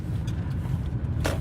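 A car on the road gives a steady low engine and road rumble heard from inside, constant through the short moment.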